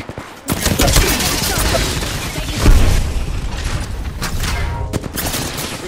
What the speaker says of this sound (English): Cam, getting shot.